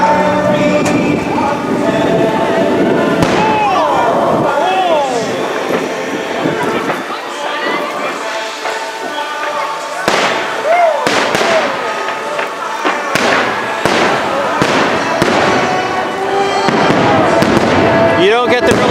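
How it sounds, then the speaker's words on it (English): Fireworks boom and crackle in a steady string of bangs, heard from some distance near the Mad Tea Party at Magic Kingdom, with crowd voices and chatter running underneath throughout. "You really hear the percussion bangs of the fireworks"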